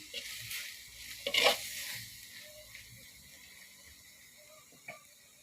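Dried chilies are stir-fried in a pan for a spicy wild boar curry, with faint scraping and rattling of a utensil over a soft sizzle, loudest early and then fading, with no talking.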